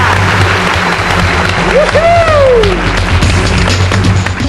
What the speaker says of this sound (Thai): ขอเสียงปรบมือดังๆนะครับ